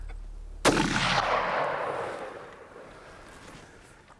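A Winchester rifle fires a single loud shot during a big game hunt, with the target about 150 to 175 yards away. The sharp report is followed by a long rolling echo that fades slowly over several seconds.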